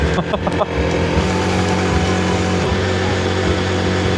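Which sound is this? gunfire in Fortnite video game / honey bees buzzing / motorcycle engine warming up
motorcycle engine warming up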